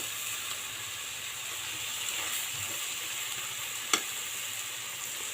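Spice paste being stir-fried in a pan for an Ilish-style fish curry, a soft continuous sizzle with faint scraping of stirring and one sharp clink partway through.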